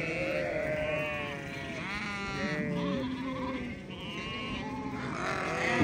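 Several sheep bleat repeatedly in a flock, their wavering cries overlapping at close range against a soft outdoor background.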